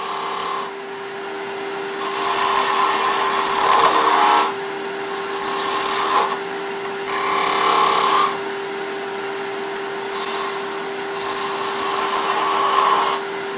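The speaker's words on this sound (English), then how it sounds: "I'm going to switch to a detail spindle gouge, which has a narrower flute and a pointier to make it a little easier to get in there" Wood turning on a lathe with a narrow-fluted detail spindle gouge, shaping small wooden peg people: a steady motor hum runs throughout beneath repeated bursts of bright, scraping cutting noise, loud and close, with no talk.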